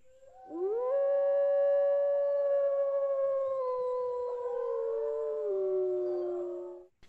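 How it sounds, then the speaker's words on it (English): A lone wolf howl plays as museum diorama audio: one long, clear, tonal call that rises at the start, holds for about six seconds and slowly falls away. "Wolf howl."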